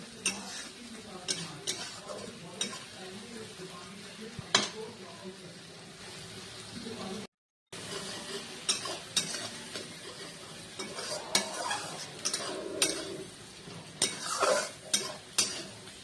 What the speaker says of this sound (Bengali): এবার পুরো সবগুলোকে ভালো করে আর একবার মিশিয়ে নেব।